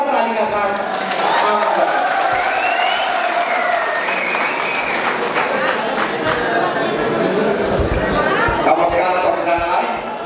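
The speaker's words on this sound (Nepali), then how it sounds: "मञ्चमा जोरदार तालीका साथ" A crowd at a Nepali political party event gives loud, sustained applause as the party spokesperson is welcomed onto the stage, with chatter and voices mixed into the continuous clapping.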